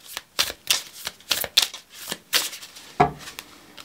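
Tarot cards being shuffled by hand, a run of soft papery riffles and slaps in an irregular rhythm, close and fairly loud, with one sharper knock of the deck near the end and no talking.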